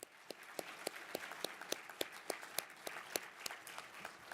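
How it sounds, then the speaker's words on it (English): Audience applause at the Cast in Steel 2025 awards ceremony, heard as distant crowd clapping with sharp individual claps rising in a steady rhythm through the whole stretch. "Let's give them another round of applause."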